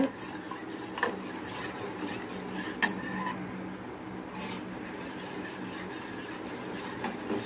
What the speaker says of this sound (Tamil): நல்லா மீடியம் ஃப்ளேமில் வச்சு கைவிடாமல் கிளறிக்கிட்டே இருங்க